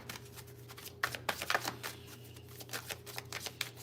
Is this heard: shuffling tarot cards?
yes